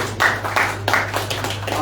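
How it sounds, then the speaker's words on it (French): Audience applause for Madame Anna at a Russia Day celebration, a modest scattering of claps in irregular bursts over a steady low hum, fairly close and moderately loud. "Madame Anna, que je vous demande d'applaudir une fois de plus."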